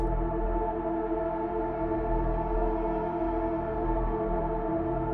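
A smeared, washed-out synth melody processed with a blur effect, blurred sustained tones, a dense steady texture with no clear attacks, playing on its own.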